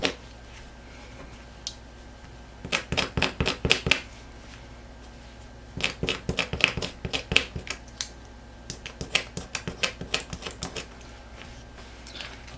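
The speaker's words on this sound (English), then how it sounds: "I'm going to use the box cutter because it'll be like more of a" A box cutter slices through denim shorts in bursts of quick, crisp scraping snicks, several clusters separated by short pauses, close and clear.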